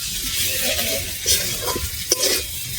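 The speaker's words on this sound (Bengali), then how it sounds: "আমি পেঁয়াজটা ভালো করে নেড়ে ছেড়ে নেবো।" Chopped onions stir and fry in a hot pan with cumin and spices, giving a steady sizzle broken by scraping spatula strokes and a couple of sharp clinks against the metal, with no talk.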